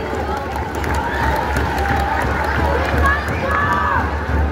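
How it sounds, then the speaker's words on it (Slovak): Large crowd in a youth under-15 sports arena in Prešov making a sustained wash of applause and cheering noise, steady and fairly loud throughout with general hubbub. "Jeden veľký potlesk."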